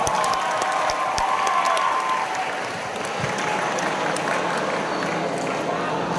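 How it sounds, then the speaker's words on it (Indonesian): Audience in a school hall clapping for a talk show, a dense wash of applause that stays steady and fairly close throughout, with a few louder individual claps. "kita kasih aplaus untuk Anda semua."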